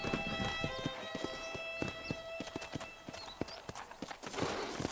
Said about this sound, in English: Olha o cavalo.